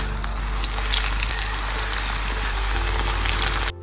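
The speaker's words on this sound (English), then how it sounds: "So now in goes my butterfly prawns in batches." Butterfly prawns fry in very hot oil over high heat, giving a loud, steady, dense sizzle that runs without a break and then cuts off abruptly, with no talk over it.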